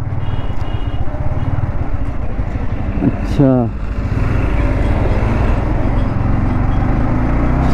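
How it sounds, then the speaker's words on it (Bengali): A motorbike engine rumbles steadily while riding through a lane in Kolkata's metro area, a low continuous drone under a voice, with a brief rising chirp partway through. "তা আবার বাইক চালাচ্ছি দেখো"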